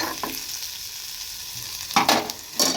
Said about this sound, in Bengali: একটু আলু পটল ভাজছি